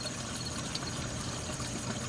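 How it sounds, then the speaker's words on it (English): Low pool water flows into a skimmer with a steady, turbulent gurgling wash under a low pump-like hum, constant and close, with no voices. "you can hear the water going into the skimmer"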